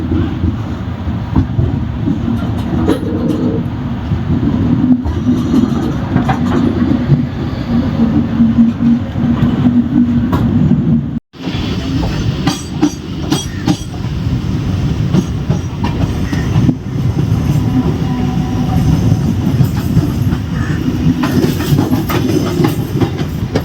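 Cholan Express passenger train running at speed, steady low rumble and rhythmic wheel clatter heard from inside an S3 sleeper coach, loud and continuous with a brief dropout midway.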